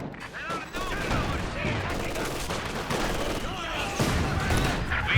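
LMG Grenadiers firing machine guns in a Company of Heroes 2 match, dense rattling bursts of gunfire and battle noise running continuously, loud and close, with a voice talking over them.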